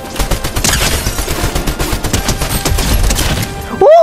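Rapid bursts of gunfire from a Fortnite match rattle on continuously, dense and loud, with overlapping shots throughout and a brief tonal in-game sweep near the end.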